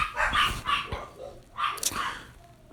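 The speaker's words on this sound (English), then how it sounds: "These dogs are going crazy." Several dogs bark close by in quick bursts, a few sharp barks and yips repeating over a couple of seconds.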